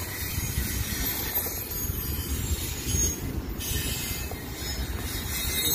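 A Union Pacific freight train passes on a cold day, its wheels rumbling and grinding with faint squealing in a steady, dense roar, continuous and fairly near.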